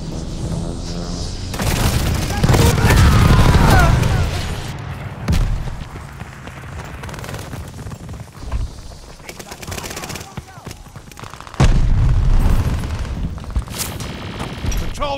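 Bursts of automatic gunfire and booming blasts from Call of Duty Vanguard multiplayer, loud rapid volleys separated by quieter stretches, with game voices speaking in between.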